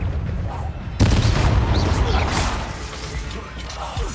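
The Confringo blasting spell in Hogwarts Legacy bursts in with a sudden loud crack, then a crackling, debris-filled roar of combat effects that keeps rumbling for several seconds.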